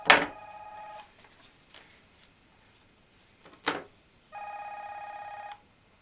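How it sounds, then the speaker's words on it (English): A telephone rings in a workshop, two separate electronic trilling bursts about four seconds apart, fairly faint, with a knock or clunk in between. "Hang on a minute, the phone's ringing."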